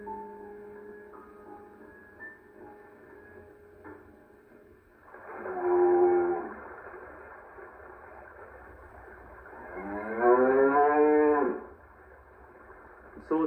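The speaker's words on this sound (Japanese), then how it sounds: "早朝の日差しを浴びて子供たちが牛を追っています。" Dairy cattle being driven by children in the early morning toward highland pasture in the northern Kitakami mountains moo twice, each low call swelling for a second or two, moderately near above a quiet outdoor hum.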